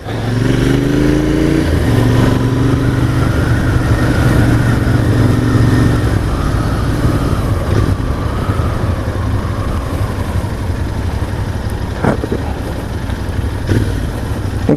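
Royal Enfield Interceptor 650 motorcycle engine running while riding, a loud continuous drone with a steady low rumble and a few rising revs early on, with strong wind noise throughout and no talk.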